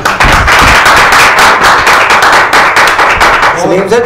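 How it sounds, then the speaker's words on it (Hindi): Loud, dense applause from a studio audience after a Punjabi song on a television program, continuous rapid clapping throughout, with a voice starting to talk near the end. "जबरदस्त तालियां जी"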